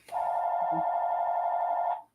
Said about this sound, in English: Yeah, it's the phone.